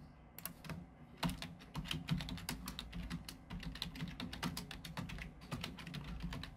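Someone types text into a blog post on a computer keyboard, producing quick irregular bursts of sharp key clicks over a low background hum, close and moderately loud, with no speech.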